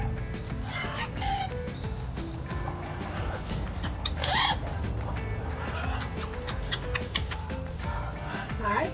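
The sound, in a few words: parrots squawking at a beach shop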